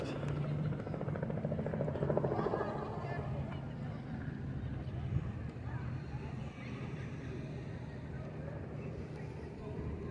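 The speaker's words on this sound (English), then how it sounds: "Helicopter off in the distance." Helicopter droning far off on a Florida waterfront, a steady faint rumble under people chatting.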